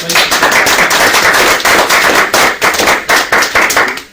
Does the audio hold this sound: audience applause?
yes